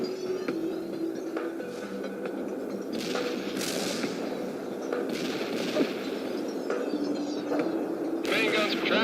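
Unit gunfire in the strategy game World in Conflict, with Abrams tanks and artillery in the battle: scattered shots and bursts at moderate distance over a steady battlefield hum, with voices talking through it.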